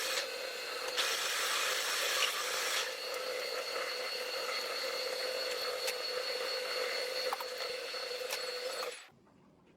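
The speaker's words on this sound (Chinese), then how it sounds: "最后用丝锥进行公丝。" A tap cuts threads into a drilled hole in the end of a square steel bar clamped in a lathe chuck, giving a steady close grinding rasp with a whining tone; it runs continuously for about nine seconds and then stops abruptly.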